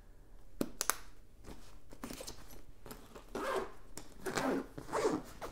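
A zipper is pulled open across a camera bag's top compartment in a few close, rasping strokes, followed by rustling of the bag's contents.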